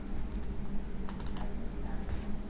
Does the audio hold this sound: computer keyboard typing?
yes